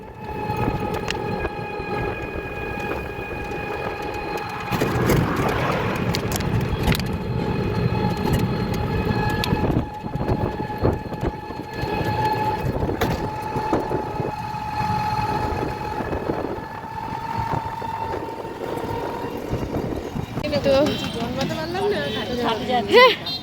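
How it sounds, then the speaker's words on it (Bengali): A crowded passenger train rolls toward Mayapur with a loud, continuous rumble, rattling clacks and squealing tones, while people talk throughout. "ওই ট্রেনটা ধরে আমরা যাচ্ছি এবার ডাইরেক্ট মায়াপুর"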